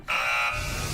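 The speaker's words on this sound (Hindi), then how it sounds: "पहला बजर दबा दिया है" A buzzer on a fight competition show sounds as one loud, sustained electronic tone under a second long, starting abruptly.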